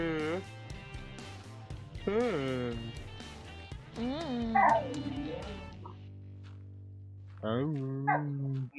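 A pet dog gives a run of whiny, rising yips and whimpers in close succession, with louder barky bursts, loud and near, over a steady low hum.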